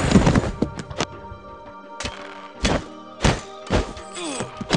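Archers loosing volleys of arrows in the mobile strategy game Stick War Legacy, a string of sharp thunks and whooshing releases in irregular bursts, some close together, with game effects in between.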